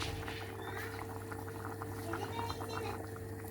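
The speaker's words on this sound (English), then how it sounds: "They're all bubbling away, minding their own business." Potatoes and eggs simmer in a pot of water, giving a steady low bubbling and soft liquid burble throughout, moderately close, with no speech over it.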